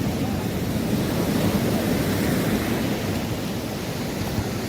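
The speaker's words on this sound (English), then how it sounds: "we are on the Leme beach, my neighborhood beach here in Rio de Janeiro" Steady surf at Leme beach in Rio de Janeiro, a dense continuous wash of breaking waves that holds an even, fairly loud level throughout with no voices.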